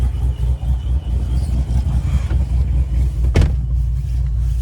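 A Procharged 2016 Corvette Z51 V8 idles while warming up, a loud, steady low rumble close by with a brief sharp knock near the end.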